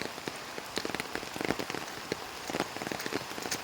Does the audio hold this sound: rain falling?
yes